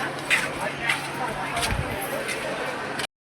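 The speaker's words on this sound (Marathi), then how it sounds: "लय गर्दी झाली आहे." A large crowd of pilgrims gathers at the Mauli temple in Alandi during the Pandharpur wari, a steady babble of many voices with scattered nearby footsteps and shuffling.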